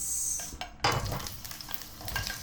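Onion dropped into hot oil in a pan while cooking pakbet, with a broad sizzle that jumps up sharply partway through and then keeps crackling steadily, close and moderately loud, with no talking.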